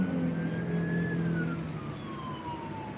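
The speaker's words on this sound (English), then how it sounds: "That was a fire truck," A fire truck siren wails at a distance, its pitch sliding downward as it passes, over a low rumble of traffic.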